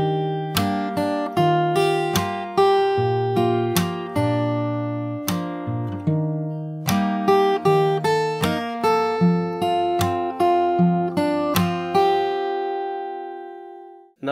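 Fingerstyle guitar playing a song melody, with plucked single notes and bass notes in a steady rhythm over about fourteen seconds, clear and close with no voice.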